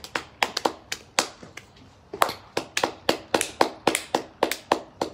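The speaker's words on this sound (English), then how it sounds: "What are you clapping for?" A small group claps for essential workers, sharp close handclaps in uneven, overlapping bursts with a short lull near the middle, no voices.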